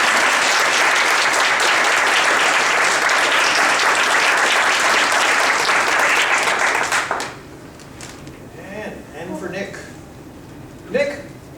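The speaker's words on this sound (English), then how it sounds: "Round of applause, please, for Maria Fuller." A Toastmasters panel audience in Toronto gives a loud, dense round of applause lasting about seven seconds before it cuts off, followed by quieter murmuring and a speaking voice.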